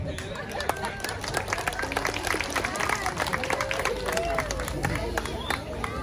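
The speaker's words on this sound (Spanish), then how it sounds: "Gracias, gracias por el aplauso." Audience applause at a live comedy show in Huatulco, a steady wash of clapping and crowd noise mixed with scattered cheers and murmuring voices, loud and continuous throughout.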